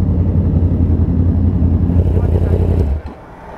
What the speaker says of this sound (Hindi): तो नूरुल्लाह समीउल्लाह वाली बाइक्स का ग्रुप आया है, नोटोरियस कावासाकी H2R, पेशावर वाली एक्सटेंडेड H2 और साथ उसके S1000